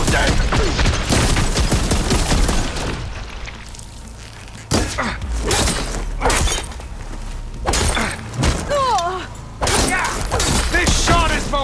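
Gunfire and heavy impacts burst in bursts from combat in Horizon Forbidden West, loud shots, thuds and shattering mixed with shouting voices and swelling game music.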